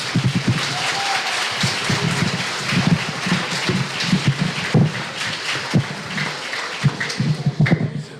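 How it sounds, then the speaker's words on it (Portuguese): Audience applause closing a talk at the 35th CONRESPI conference, a steady wash of many hands clapping at moderate loudness for about eight seconds, with brief low voices and bumps in the room beneath it. "Palmas para o Vinícius, gente."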